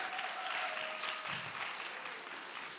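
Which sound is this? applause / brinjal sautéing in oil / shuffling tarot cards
applause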